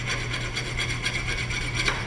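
A hand file worked over a steel Jeep differential cover, a continuous close rasping scrape with rhythmic stroke pulses over a steady low hum; no talking.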